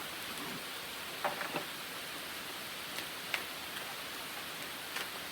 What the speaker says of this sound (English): It wasn't until I sat down that it started to rain this hard.